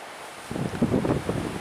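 Outdoor wind at about 8 miles per hour on a 58-degree morning, a soft rushing buffet against the microphone that swells after a quiet start and stays steady and close.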